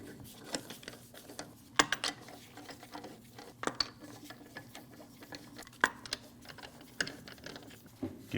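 Lug nuts being snugged onto the rear wheel studs of a 2012-2016 Honda CR-V, a faint series of scattered metallic clicks and taps with short bursts of ratcheting, heard alone.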